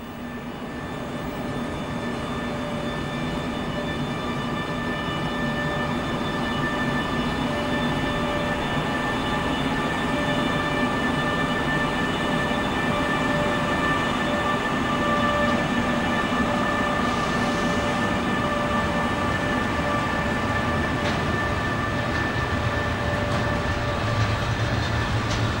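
A freight train of tank wagons rolls steadily past at close range, a continuous loud rumble of wheels and rail noise with faint steady tonal whines, lasting throughout with no voices.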